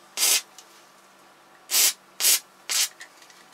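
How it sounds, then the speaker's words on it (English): Easing oil is sprayed from an aerosol can onto a tight bolt during work on a narrowboat water tank: four short, close hissing bursts, the first alone and the last three in quick succession. "I'm going to spray some easing oil on it."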